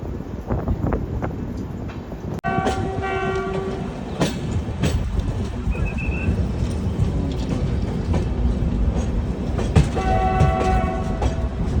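A passenger train in India rolls steadily along the rails with a continuous loud rumble and clatter, wheels clicking over joints, while short horn blasts sound intermittently throughout.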